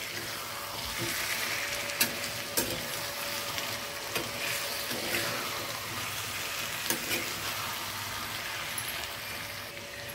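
Pre-fried cauliflower pieces cooking in a curry gravy, with a steady soft sizzle and bubbling plus occasional scrape-like stirring knocks, close and continuous, with no talking.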